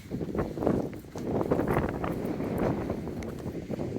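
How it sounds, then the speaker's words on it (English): Gusty wind on the Appalachian Trail buffets the microphone outdoors in loud, rumbling bursts, with faint rustling and clopping in the background. "It's very windy here, so sorry for the noise."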